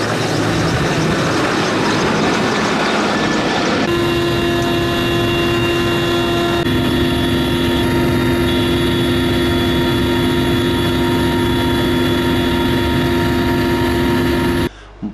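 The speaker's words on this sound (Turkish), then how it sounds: "ulusal basın mensupları helikopter ile projenin uygulanacağı alanı havadan görüntüledi" A helicopter flying over a forest fire area near Manisa, Turkey, heard from on board as a loud, constant rotor and turbine drone with steady whining tones throughout, no voices.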